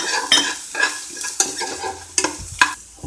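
Chopped onion frying in a pan toward golden brown makes a close, crackling sizzle. Several distinct stirring scrapes break through it in an uneven rhythm.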